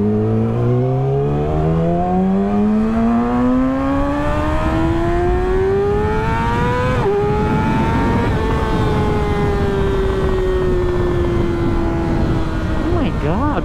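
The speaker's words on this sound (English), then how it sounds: "this sounds like those S1000RRs that are tuned, like the Brazilian ones that are like screaming when they rev it" A high-pitched sport motorcycle engine screams as it revs up through the gears while riding, tuned like a BMW S1000RR, loud and close with steadily rising pitch, a shift, then another climb and a quick blip at the end.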